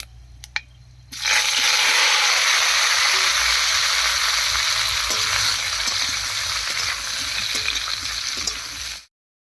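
Papaya and potato pieces drop into hot oil tempered with cumin, bay leaf and whole garam masala, and a loud sudden burst of frying follows. The sizzle stays steady and close for several seconds, then cuts off.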